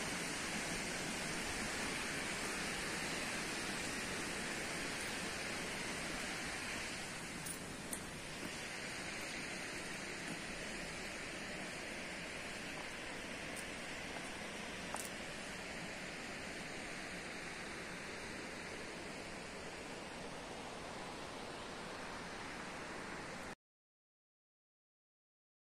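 The Ouzoud waterfalls, with olive trees and cafés nearby, pour in a steady, loud, broadband roar of falling water that continues unbroken with no voices.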